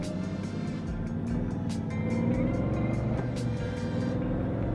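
A 2018 Honda Goldwing motorcycle engine running steadily and accelerating, a continuous loud near drone with rising tone as it shifts up through gears, no speech over it.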